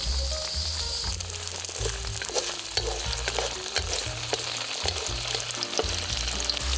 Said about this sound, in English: Stir fry the ingredients in medium heat